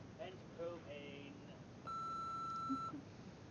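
An answering machine beep sounds as a single clean electronic tone lasting about a second, fairly faint, following a few brief muffled tones over low background hiss.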